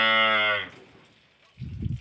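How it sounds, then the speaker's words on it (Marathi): A calf moos once, loud and close with a long, strained call during morning milking on a farm, eager to drink its mother's milk, then a shorter, low grunt follows after a pause. "वासरू कसं हमरत आहे दूध पिण्यासाठी, कसं आतुर झालेलं आहे बघा"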